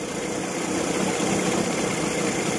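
Evinrude 40 HP outboard engine idling just under 1,000 RPM, running slightly rough, a steady close, continuous mid-low drone with a faint uneven pulse and no talk.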